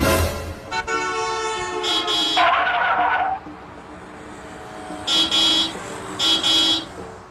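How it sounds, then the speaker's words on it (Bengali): Car horn honking in short bursts, a long toot followed by a gap and then two quick honks near the end, loud and close against quiet traffic background. "ওই গাড়িটা হর্ন বাজাচ্ছে কেন?"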